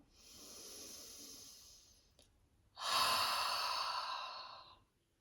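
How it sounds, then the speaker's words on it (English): Two slow, breathy exhalations of ujjayi breathing, the second louder and more forceful, like a long airy "ha" sigh released close to the microphone. "So on the inhale, so you're making the sound ha on the exhale."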